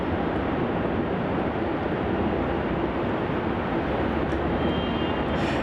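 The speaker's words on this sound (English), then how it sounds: "Departing off here, we have Virgin Australia flight VA 1316 off to Hobart." Virgin Australia airliner departing Melbourne Airport bound for Hobart, a loud continuous broadband jet roar that holds steady throughout, heard outdoors from a spotting position.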